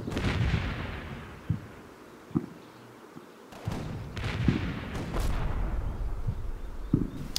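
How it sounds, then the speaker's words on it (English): Gunfire and tank shelling in the Combat Mission: Battle for Normandy war game: scattered sharp shots and heavy booming impacts at irregular intervals over a continuous rumbling battle din, with no voices. "the turn is a bunch of small fire exchange with tanks shelling"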